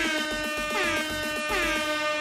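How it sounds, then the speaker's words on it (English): A blaring air horn sound effect repeats in a rapid pulsing rhythm with descending pitch swoops, loud and alone over a thumping beat. "I'm gonna go ahead and give that about 4 out of 5 air horns"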